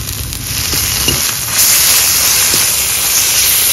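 Garlic and ginger paste hits browned onions in hot oil for paneer-stuffed pointed gourd curry, giving a steady, loud, close hiss that swells after a moment, with a few soft knocks and no talking.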